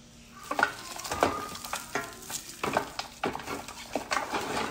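Onions being sautéed in olive oil, an uneven sizzle broken by repeated scraping and stirring strokes in the pan, close and fairly loud, no speech.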